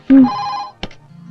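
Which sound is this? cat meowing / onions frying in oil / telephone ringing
telephone ringing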